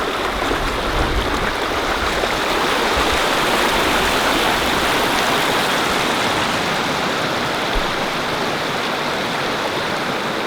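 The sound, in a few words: underground spring water flowing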